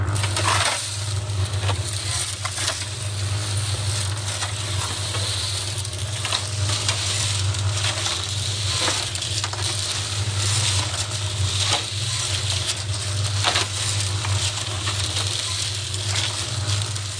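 Old cement mixer drum tumbling rusty parts with coal slag, a dense, steady gritty rush of pattering and crunching over a low motor hum, continuous and close.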